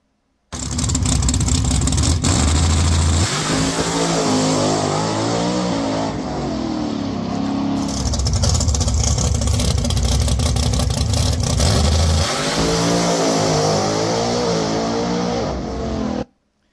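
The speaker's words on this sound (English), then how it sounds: "As you can see, the car went right down the track, no problem at all." A nitrous-equipped hot rod drag car accelerating hard down a drag strip, its engine roaring loud and close for the whole run, rising in pitch through gear changes with no talk.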